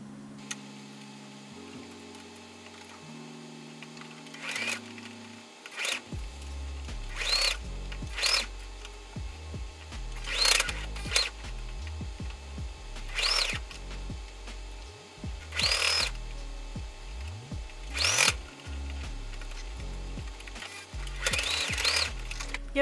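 A sewing machine stitches around a fabric bottle bag in bursts of fast, steady mechanical whirring and ticking, with short pauses between runs and a quiet hum underneath.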